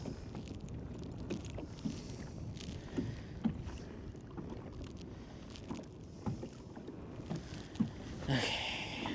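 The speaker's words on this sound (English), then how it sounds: "That wind is not going to give up. It's going to blow." Wind gusts buffet a small fishing boat on a lake during kokanee fishing, a steady rushing roar with choppy water and hull noise, swelling louder near the end.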